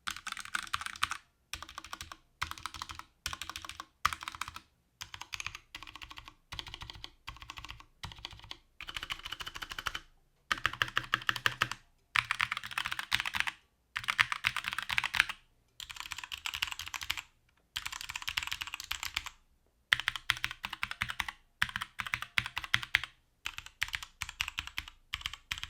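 Typing on a Glorious GMMK hot-swap mechanical keyboard fitted with 3-pin switches: close, crisp keystrokes in steady bursts separated by short pauses, with no talking.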